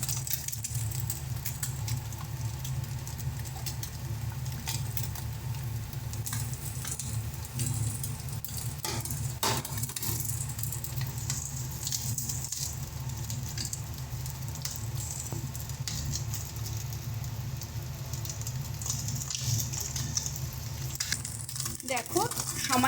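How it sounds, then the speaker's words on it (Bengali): Egg and chopped onion fry together in a pan, giving a steady, fairly loud sizzle that runs unbroken from start to end with a few sharper crackles along the way. "সময় বাঁচানোর জন্য কিন্তু একদম তাড়াতাড়ি একই সঙ্গে আমরা দুটোই ভেজে নিচ্ছি, ডিমটা পেঁয়াজটা"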